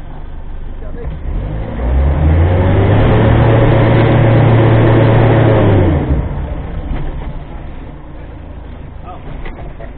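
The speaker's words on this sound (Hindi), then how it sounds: "हाँ चलिए एक्सीलेटर दबाइए दबाइए।" A car engine revs as the accelerator is pressed during a driving lesson, rising sharply around two seconds, holding a loud steady drone, then dropping back to idle, with faint voices in the background.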